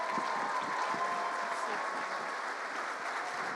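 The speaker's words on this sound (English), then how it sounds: "Let's give them a big round of applause." An audience claps for students in a steady, moderately distant wash of applause, with a few faint voices mixed into the continuous patter.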